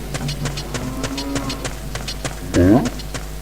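A cow moos once, briefly and fairly clearly, in the video game The Legend of Zelda: Ocarina of Time Master Quest, over a background of rhythmic game sounds and a low hum.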